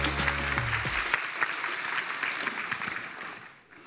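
An audience applauds a speaker being introduced at a hacking security conference talk, a dense steady wash of clapping from many hands that fades slightly toward the end.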